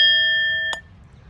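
Metal singing bowl ringing with a steady sustained tone and clear overtones, then cut off abruptly as a hand grips it, leaving a brief soft thud and near silence.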